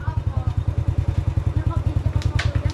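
Motorcycle engine chugging in a steady, rapid low pulse while climbing a steep dirt trail, loud and close throughout, with a brief higher clatter near the end.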